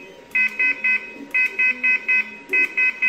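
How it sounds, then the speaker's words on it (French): Electronic metal detector beeps in three quick groups of three, four and three, loud and close, with a faint voice murmuring underneath. "Le nombre de bips correspond au niveau."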